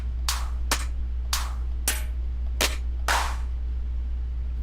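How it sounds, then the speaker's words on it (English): Six sharp snare hits fall one after another at a moderate, slightly uneven pace over a steady low drone from a synth beat. "Let's throw on a snare."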